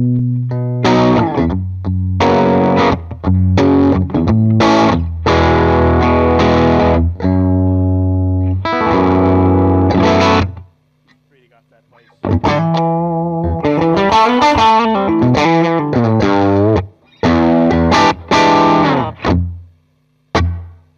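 Electric guitar through a real VOX AC15 amp with drive, playing loud, distorted chords and melodic runs with reverb, briefly dropping out before resuming.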